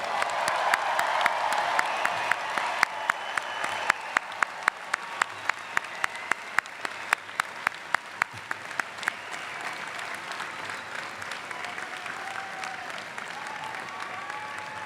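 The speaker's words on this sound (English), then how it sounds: "Please join me in a robust round of applause for the MBA class of" Audience applause at a 2019 McCombs School of Business MBA commencement, steady dense clapping for the graduating class with sharp individual claps standing out, sustained at an even level through the whole stretch.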